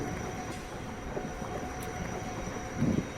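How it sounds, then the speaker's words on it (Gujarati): A train rumbles steadily along through the Rann of Kutch near Adesar station, with a continuous low roar, a faint squeal and a louder clatter near the end. "એના માટે આ ટ્રેન ચાલી રહી છે"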